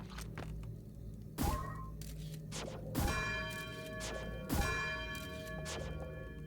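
In Outer Wilds, a bell is struck three times at roughly even intervals, each strike ringing out with a bright, lingering metallic decay over a dense, humming background.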